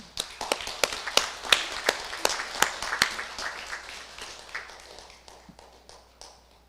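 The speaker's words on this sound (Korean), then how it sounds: "큰 박수로 모시겠습니다" An audience at a Won Buddhist New Year ceremony in Ilsan breaks into applause, starting with sharp, separate claps that thin out and fade over several seconds in a quiet hall.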